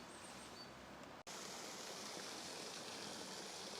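A river stream flows in a constant, full rushing wash, close and steady, broken only by a brief cut near the start.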